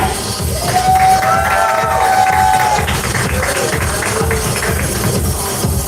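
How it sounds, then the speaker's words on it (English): An audience at a drag pageant cheers and applauds loudly for a contestant, a dense continuous wash of clapping and whoops with a voice rising briefly above the crowd. "Keep that applause going, ladies and gentlemen"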